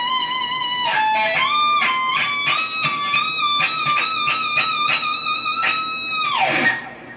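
Electric guitar plays the ending of a solo: sustained lead notes with heavy vibrato climbing through a phrase, then a long held note that bends down and fades. It sounds close and clear, with no voices.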